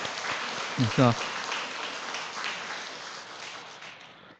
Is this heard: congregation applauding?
yes